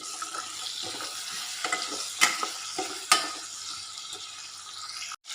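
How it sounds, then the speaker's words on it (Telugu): Tomato pieces and tamarind being stirred in a frying pan, soft sizzling under repeated scraping strokes of a spoon, with a couple of sharper metallic knocks against the pan; no talking. "అలాగే చింతకాయ కూడా వేసుకొని ఒకసారి కలిపేసుకొని మూత పెట్టుకోవాలి"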